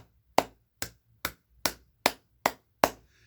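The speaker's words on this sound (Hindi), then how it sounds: "ये करने के बाद फिर जो है 100 बार बजाइए ताली यूं" Hand clapping done as a health exercise: seven crisp, close claps at a steady, even pace of about two or three per second, with nothing else heard between them.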